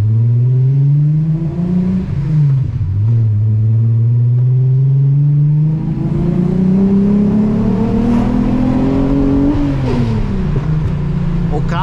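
A Volkswagen Golf VR6 six-cylinder engine roars while climbing a hill in first gear, its pitch rising and falling through repeated loud, close revs.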